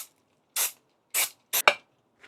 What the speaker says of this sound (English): I'm just going to start with some brake cleaner